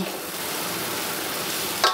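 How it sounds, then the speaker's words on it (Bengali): Sweet potatoes sizzling in a pan while being fried lightly for a sweet potato kheer, a steady close hiss and crackle with a brief stirring scrape near the end. "মিষ্টি আলুগুলো দিয়েছি, সেগুলো একটুখানি হালকা একটু ভালো করে আমি এটাকে ভেজে নেব"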